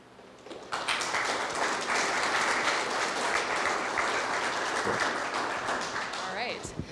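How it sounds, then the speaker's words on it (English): A crowd breaks into sustained applause for sheriff's office partners at a community public safety meeting, steady broadband clapping lasting several seconds before fading, with a voice briefly heard near the end. "they deserve a round of applause for that"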